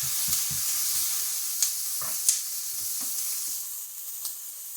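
Peppers sizzle and fry in a beef stir fry, a steady bright hiss with scattered pops and soft stirring scrapes, close and continuous with no voices.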